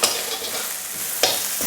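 Chili stirred into hot oil in a pan, frying with a soft continuous sizzle while a spatula scrapes and stirs, with a couple of sharper clinks near the end.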